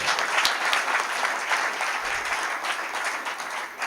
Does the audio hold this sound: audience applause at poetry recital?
yes